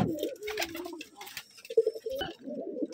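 A Rajshahi Giribaj Kalo Jag pigeon coos up close in a run of soft, throaty, rolling calls with short pauses between them.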